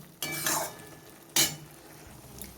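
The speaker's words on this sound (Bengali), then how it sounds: "আর দিয়ে দিলাম চিংড়ি মাছ এবারে আমি নেড়ে চেড়ে নিয়ে একটু ঢাকা দিয়ে দেবো" A utensil scrapes and clinks twice against a pan while shrimp and bottle gourd are stirred together, two short close strokes over a faint background, no talking.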